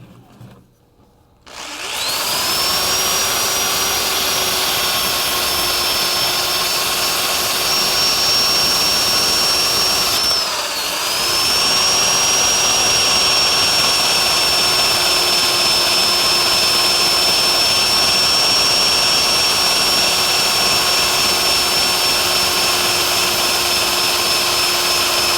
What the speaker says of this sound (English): Okay, that was the 120